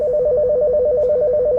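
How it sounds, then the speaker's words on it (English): A Mitel 6920 office desk phone rings with a steady, rapid electronic warble, repeating continuously and loud, close by with no talking. "When a call is coming in, the topmost line will ring."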